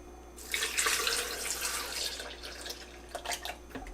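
Pineapple juice pours into a Breville BBL620 Fresh & Furious blender jar holding frozen pineapple and mango, a close splashing stream that swells and tapers over a few seconds before a few final drips.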